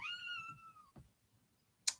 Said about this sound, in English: She's just meowing away.